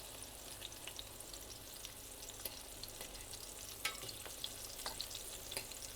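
Meatballs sizzle steadily in a frying pan, with continuous crackling and small pops at close range, and no voices.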